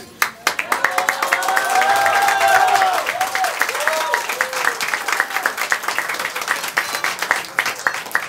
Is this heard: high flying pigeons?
no